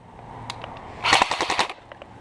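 An airsoft gun fires outdoors during a game, a few single pops and then a rapid, close burst of about eight snappy shots before the clip falls quiet again.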